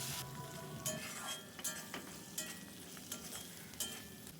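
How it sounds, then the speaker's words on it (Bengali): Garlic and green chili paste frying in a pan gives a soft, continuous sizzle, punctuated by a series of sharp scrapes and clinks as it is stirred at a fairly even pace. "রসুন ও কাঁচা লঙ্কা বাটা আমি ভালো করে কষিয়ে নেব"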